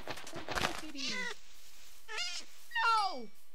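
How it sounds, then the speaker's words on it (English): A jungle cat (ocelot) in Minecraft gives three separate meows, clear and close, with short gaps between them and someone talking briefly at the start. "I see a jungle cat."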